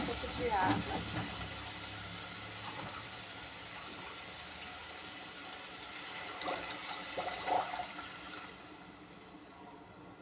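Water poured into a hot pan of chicken filling sets off a broad hiss and sizzle with a few bubbling pops, steady and fairly loud, easing off toward the end; a voice talks intermittently over it.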